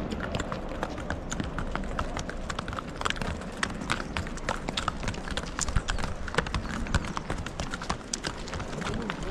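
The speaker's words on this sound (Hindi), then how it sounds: "देख लीजिए ये घोड़े वगैरह जो हैं ये चरने के लिए भेजे जा रहे हैं।" Horses walk near Kedarnath in the Himalaya while being sent out to graze, their hooves clip-clopping in a loose, continuous patter over a steady outdoor background, with occasional faint voices.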